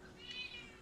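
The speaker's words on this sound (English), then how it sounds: "I've never heard a louder cat." A cat gives a single loud, drawn-out meow close to the microphone, with no talking over it.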